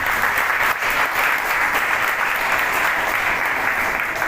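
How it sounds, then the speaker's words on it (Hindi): An audience at a public meeting of a local people's foundation applauds the event organisers, a loud, dense and even wash of clapping from many hands that continues without pause. "एक बार जोरदार उनके लिए तालियां।"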